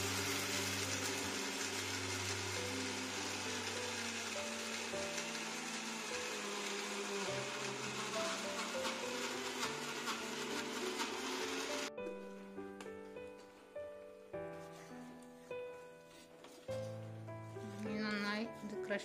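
A mixer grinder grinds roasted almonds into a paste for homemade almond Nutella, running loud and continuous, then breaking into short repeated pulses with brief pauses, while music plays underneath.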